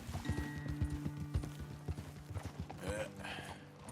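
Steady clip-clop of horse hooves on hard ground with a soft snort or whinny near the end, close and clear, in Red Dead Redemption 2.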